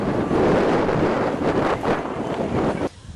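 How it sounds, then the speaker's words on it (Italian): Strong wind gusts roar across the microphone during high tide flooding in Venice, a dense continuous rush with swelling bursts that cuts off abruptly near the end. "Le raffiche di vento, come potete vedere, sono fortissime"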